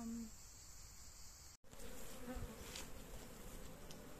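Honey bees buzz around the hives of an apiary, a dense continuous hum close by with individual bees passing near, briefly cut by a dropout, otherwise steady and with no speech.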